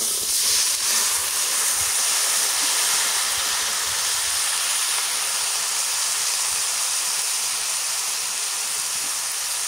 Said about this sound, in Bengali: এবার তরকারিতে ঢেলে দিই